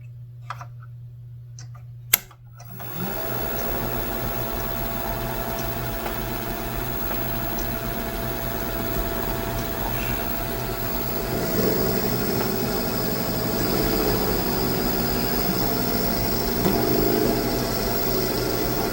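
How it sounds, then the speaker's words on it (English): A drill press starts up and runs steadily while drilling wood, a close, constant mechanical hum with faint ticking, following a brief click at startup. "So all I got to do is turn my drill press on, drill this on, and then just run this."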